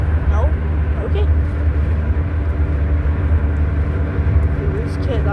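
Steady low rumble of a car's interior while driving, continuous and moderately loud, with no clear voices.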